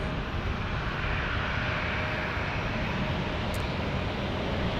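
An airliner at Phoenix Sky Harbor Airport climbing away on a go-around after coming in too high, heard as a steady, broad jet roar that holds at an even loudness throughout, with no speech.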